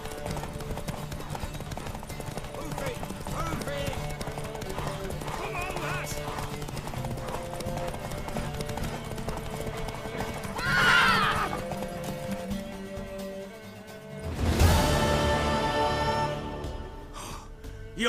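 In The Witcher 3, a horse's hooves clip-clop in a steady galloping rhythm, with a loud whinny near the end, as voices talk over the scene.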